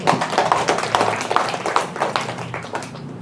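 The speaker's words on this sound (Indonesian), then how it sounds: "Tepuk tangan dulu." Audience clapping hands at an Indonesian political gathering, a brief burst of scattered, uneven claps fading over a few seconds with some crowd noise beneath.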